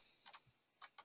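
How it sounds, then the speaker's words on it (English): A handful of quick keystrokes on a computer keyboard, entering a device ID, clicking close and quiet in two small pairs. "I'm going to go ahead and type that in"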